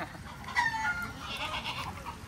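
Native chickens clucking on a farm field, a short run of close, rough clucks and squawks over a noisy outdoor background.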